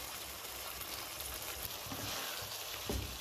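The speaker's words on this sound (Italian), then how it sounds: "E ora facciamo cuocere le patate per 4-5 minuti, poi saranno pronte." Potatoes cooking in a pan hiss in a steady, quiet sizzle, a continuous frying crackle with a few faint clinks, and no talk over it.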